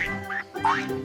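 A farm duck gives two or three clear, nasal quacks in quick succession, close and loud, with no other sounds around them.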